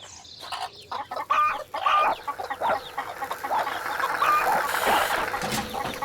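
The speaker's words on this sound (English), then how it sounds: "the chickens were making such a noise" Chickens at a farm cluck and squawk in a busy, overlapping chorus, close and fairly loud, with an occasional rooster-like call rising above the flock.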